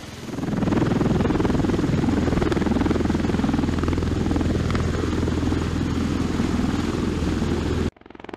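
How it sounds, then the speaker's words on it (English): A V-22 Osprey tiltrotor aircraft taking off, its rotors thumping rapidly and steadily at close range, a loud droning beat that cuts off abruptly near the end. "When it comes to taking off, the V-22 Osprey is nothing short of a flying marvel."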